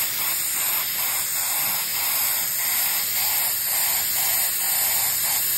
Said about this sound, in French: Avec le pistolet, ça me permet d'appliquer les couches très fines.